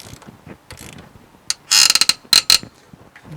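A ratchet wrench turns a spark plug on a Mitsubishi 3000GT/GTO, giving a quiet lead-in and then loud, rapid clicking bursts in two close groups, near and without talk.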